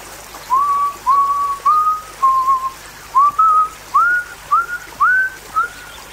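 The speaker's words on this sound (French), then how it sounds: "je me mis à siffler l'hymne national" A person whistles the national anthem outdoors, a series of clear, rising and held notes in a steady melodic phrase over faint background hiss.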